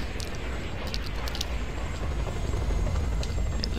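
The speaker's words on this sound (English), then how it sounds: "This really crap colored helicopter." A helicopter in the video game Just Cause 2 thrums steadily and loudly, its continuous rotor rumble filling the scene with no talk.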